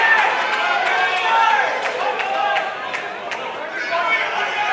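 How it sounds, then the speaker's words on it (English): Bowls crowd roaring and cheering at a grand final as a player is introduced, a sustained loud wash of cheers and whistles with a commentator talking over it. "Steve Adamo gets the crowd up and about."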